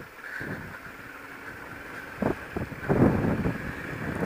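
Steady wind buffeting the microphone while cycling in Freycinet National Park, Tasmania, a low rumbling roar with a few stronger gusts toward the end, no voices.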